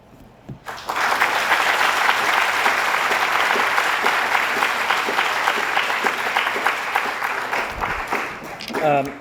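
A seated audience gives sustained applause at the close of a program session, the clapping starting abruptly and holding dense and steady for about eight seconds before tapering off.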